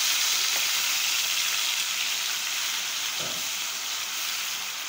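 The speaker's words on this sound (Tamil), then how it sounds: "இப்போ நம்ம அரைச்சி வச்சுருக்கிற மசாலாவை இதில் சேர்த்துடலாம்" Ground masala paste frying in hot oil for masala puri, a steady loud hiss and sizzle throughout with a couple of soft knocks from the pan.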